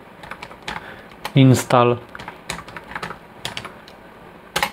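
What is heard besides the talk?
typing a Linux command on a computer keyboard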